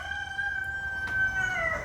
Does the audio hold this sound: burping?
no